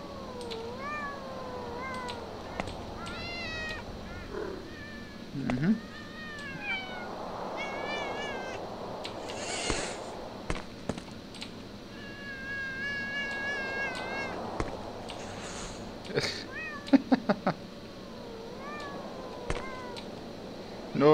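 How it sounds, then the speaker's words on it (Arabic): Cats meow repeatedly in the video game Thirty Flights of Loving: a series of clear, pitched meows and wavering cries spread across the stretch over a soft, steady game ambience, with no talking. "قطط"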